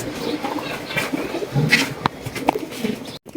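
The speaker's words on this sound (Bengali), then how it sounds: "চমৎকার এক জোড়া কালারিং গোল্লা কবুতর দিয়ে মাশাল্লাহ দেখেন অনেক সুন্দর একজোড়া কবুতর" A pair of colouring golla pigeons coo at close range, soft low throaty calls repeating over a busy background of other birds at a pigeon market.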